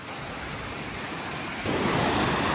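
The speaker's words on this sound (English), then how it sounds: "These are the high cascades." High waterfall cascades beside the Ullswater Way in the Lake District roar as a steady, dense rush of falling water, swelling noticeably louder and closer partway through.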